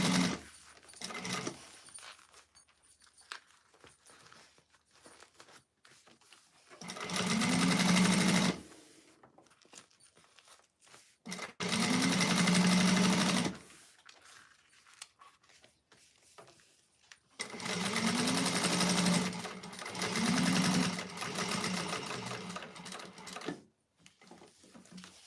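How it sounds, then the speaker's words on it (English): An oil-starved sewing machine runs with an odd, rough sound in three separate bursts of close, rattling whirring, each a few seconds long, with quiet gaps and small handling noises between. "Maybe my machine needs some oil. It's making weird sound."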